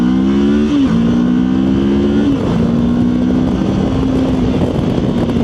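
A CFMOTO 700MT motorcycle accelerating hard through the gears in city riding, with engine pitch climbing and dropping at each shift and steady wind noise throughout.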